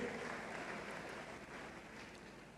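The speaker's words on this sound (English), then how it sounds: "Let's give them a round of applause for all the hard work that they put in." Audience at a graduation and achievers ceremony applauding the graduates, a steady, faint wash of clapping heard at a distance in a large hall, continuous for the whole stretch.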